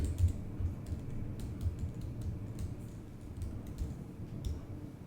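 Steady typing on a computer keyboard, soft irregular key clicks over a low background hum, no voices.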